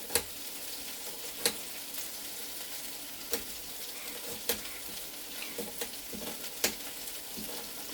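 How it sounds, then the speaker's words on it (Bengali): Potatoes fry in a hot pan with a steady, dense sizzle, broken by occasional sharp crackles and stirring taps, close and continuous throughout. "আলুটাও একটু ভেজে তুলে নিই"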